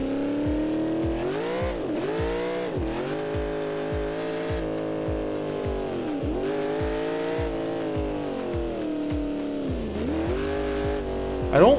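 Track car engine revving hard through rising and falling gear pulls, with tires squealing, loud and close throughout without a break.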